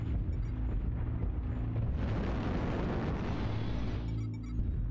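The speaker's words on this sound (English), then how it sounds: "Artillery strike online." Artillery strike explosions in the mech video game Mad Cat roll out as a deep, sustained booming rumble, loud and close, swelling in the middle before easing off.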